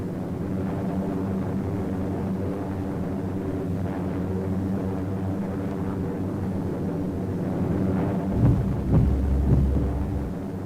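Heavy bombers droning during a bombardment of a Japanese-held airstrip in the Aleutians, a steady low roar that swells near the end with a deep rumbling burst.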